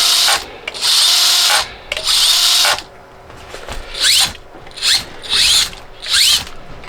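The motor of a tiny Furitek MicroPython RC car whirs during a drag brake check, first in two longer loud bursts and then in four shorter revs with rising whines, separated by brief quiet gaps.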